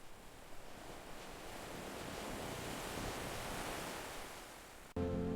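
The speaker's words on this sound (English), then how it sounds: "The constant movement of waves slowly shapes the rock." Ocean waves wash against the rock cliffs of sea caves along a northern coastline, making a steady, broad rushing surf with faint swells, quiet and continuous, then cutting off abruptly near the end.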